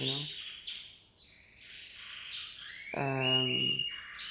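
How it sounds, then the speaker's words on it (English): A pet bird gives a series of sharp warning chirps and whistles indoors, a few bursts with a pause between them, clear and fairly close. "my bird is telling me to be warned"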